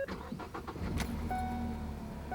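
An economy car's engine cranks briefly and catches, then settles into a steady idle, close by with no talking.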